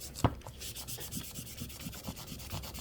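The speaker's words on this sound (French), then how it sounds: "je vais gommer un peu là, tout ça, là" Close, rhythmic rubbing of an eraser against paper to remove felt-tip pen marks, quick repeated strokes after a single sharp knock at the start, with no talking.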